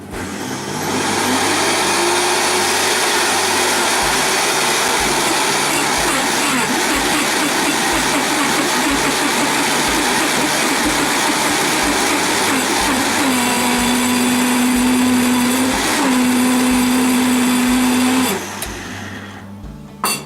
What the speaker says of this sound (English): So we will fire it up, and I'm using the tamper on the Vitamix.